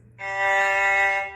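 A single sustained electronic G3 reference tone from a tuner app starts abruptly, holds steady and clear for about a second, then fades slightly, with no talking.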